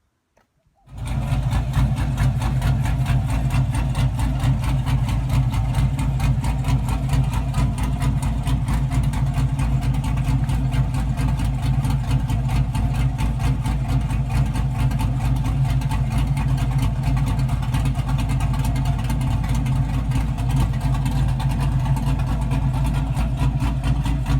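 A Chevrolet C10 square-body truck with a 5.3 LS V8 and upgraded cam idles steadily with a rhythmic lope, loud and close, starting after a second of silence and running alone.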